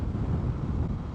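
Wind roars heavily over the rider's helmet while an Indian FTR R Carbon motorcycle moves along the road, a dense, steady, buffeting low rumble that covers everything else, with no engine or voices standing out.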